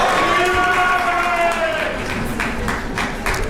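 At a university ring ceremony, a large indoor crowd cheers and whoops loudly for a graduate, with scattered clapping and shouts that gradually settle.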